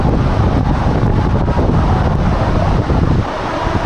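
Dhuppani waterfall deep in the Rangamati forest near Bilaichhari, Kaptai roars as a loud, steady broadband rush of falling water, with wind buffeting the microphone.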